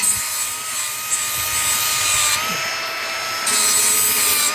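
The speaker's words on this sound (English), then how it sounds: "Remember, you're just going sharpening on this angle." A Lazer Z mower blade being sharpened at an angle gives a continuous abrasive grinding whine, steady and fairly loud, shifting slightly in tone as the pressure changes, with no voices.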